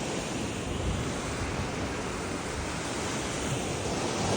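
Waves wash steadily on a Toronto lake shore, a continuous, broad rushing surf mixed with wind buffeting the microphone, with no voices.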